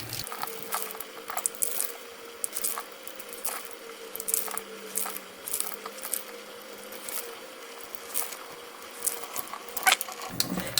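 A soapy beauty blender sponge being squeezed and mushed over and over during cleaning, giving a steady run of soft wet squelches and crackles at close range with no talking.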